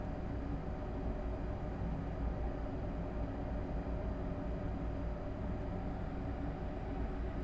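Train running in the video game Train Sim World 5, a steady low rumbling drone with constant rolling noise throughout, no voices.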